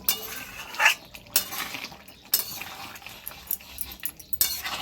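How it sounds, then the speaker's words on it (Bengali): A spoon stirring chicken in a handi pot for badami murg handi, with irregular metallic clinks and scrapes against the pot over a faint background hiss, close, no talking. "এবার আমি ভালো করে আরেকটু নেড়ে দেব"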